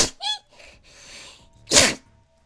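A single sharp sneeze bursts out loudly near the end, preceded by a quick intake and soft breathy sounds.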